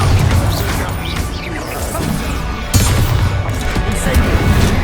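Bombarda spell explosions in the Hogwarts Legacy video game on PS5: heavy booming blasts and crashing impacts over dense battle noise, with a sharp loud burst near the middle.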